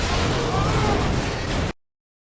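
A roaring blast from a Mad Max film action scene, a loud, dense broadband rumble sustained for under two seconds before cutting off abruptly to silence.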